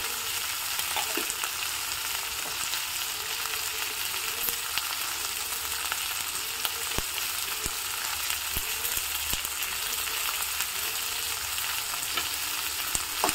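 Okra seasoned with turmeric and salt stir-fries in a pan, giving a dense, even sizzle throughout with light scraping and stirring ticks scattered over it, close and steady.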